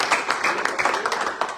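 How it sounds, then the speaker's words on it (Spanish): A church congregation claps briefly after a prayer, a short burst of close, uneven hand claps under a voice. "Denle un aplauso al Señor."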